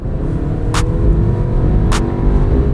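An Audi A3 1.8 TFSI driving in sport mode gives a steady, loud engine drone and road rumble throughout, with two brief sharp bursts of noise riding over it.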